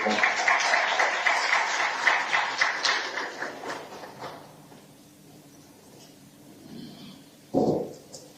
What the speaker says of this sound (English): Let's just give him a round of applause as he's coming to the